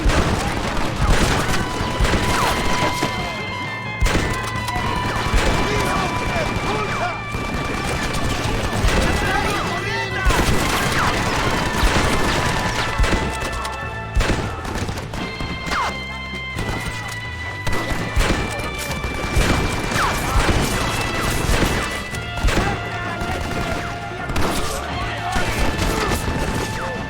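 Sustained machine gun bursts and scattered gunshots in the game Red Dead Redemption, loud and near, firing in dense rapid volleys with brief gaps, mixed with crashes and impacts.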